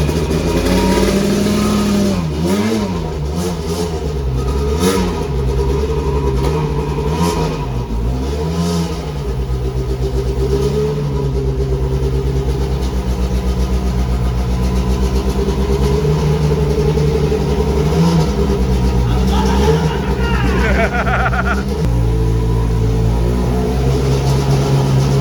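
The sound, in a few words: Lancia 037 Stradale Group B car engine revving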